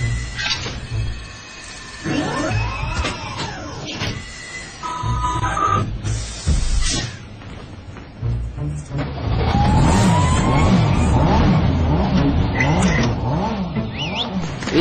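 A car drives along with steady engine noise and occasional revving, running continuously under background music through the whole stretch.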